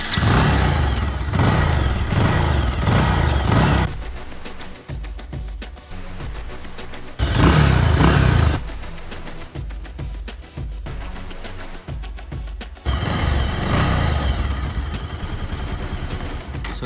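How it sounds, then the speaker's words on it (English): A Bajaj Pulsar 220 motorcycle engine starts and revs up close, loud throttle blips rising and falling between stretches of lumpy idle, with no talking. "Let's turn on the engine first."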